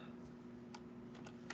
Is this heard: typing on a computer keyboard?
yes